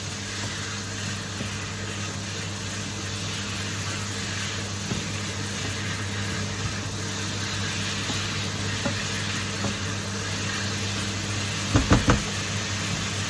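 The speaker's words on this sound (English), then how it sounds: "our chicken is absorbing all of the oil from the chorizo, and that is why it is like frying" Chicken fries steadily in hot chorizo oil for jambalaya, a constant crackling sizzle with a low hum underneath and a few quick knocks near the end.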